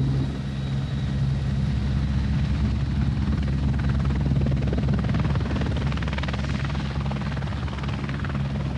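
A Merseyside Police Squirrel helicopter in flight, with a steady, loud, close rotor thump and turbine whine that keeps up throughout without a pause.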